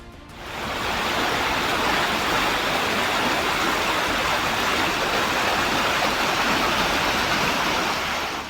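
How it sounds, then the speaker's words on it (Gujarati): Heavy, steady monsoon rain with thunder roars without a break in Saurashtra, Gujarat, a dense wash of noise like a downpour or rushing water, loud and close throughout. "ગાજવીજ સાથે ધોધમાર વરસાદ ખાબકતા જળબંબાકારની સ્થિતિ ઊભી થઈ છે"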